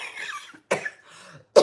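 Three harsh coughs in quick succession, close and loud, with short gaps between them.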